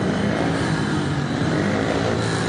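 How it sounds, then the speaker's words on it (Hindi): Six motorcycles roar out of a jungle as a horror story sound effect, a loud, continuous, dense engine roar that runs unbroken from start to finish. "के बाद एक 6 बाइक जंगल चीर कर निकल आई।"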